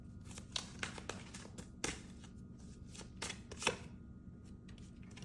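Tarot cards being drawn and handled from a deck, a series of soft, close slaps and rustles spaced irregularly against a quiet room.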